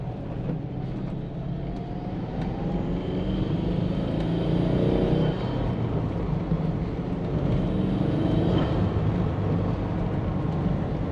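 An SG-generation Subaru Forester XT with a newly fitted intake idles with a steady, close engine drone and a continuous rumble and whir that grows slightly louder partway through. No one talks.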